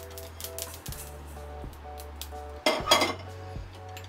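Roasted curry leaves for a Maharashtrian chutney are taken off a pan, with a metal spoon scraping and clinking against it several times and a louder burst of clatter in the middle, with no talking.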